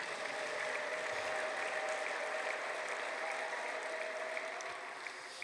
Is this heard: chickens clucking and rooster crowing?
no